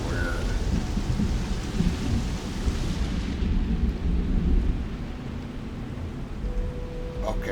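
Rain and rolling thunder in the video game Starfield, a heavy steady downpour with a deep rumbling peal that swells and then eases, continuous and fairly loud.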